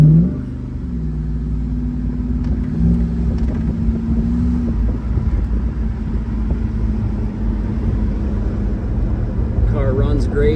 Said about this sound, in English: Car runs great, drives great